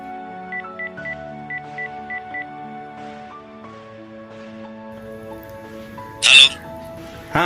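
A telephone being dialed: a quick run of about seven short keypad tones in two bursts over soft background music, followed later by a brief sharp electronic chirp.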